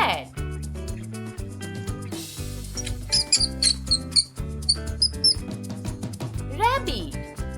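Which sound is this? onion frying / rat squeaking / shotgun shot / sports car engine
rat squeaking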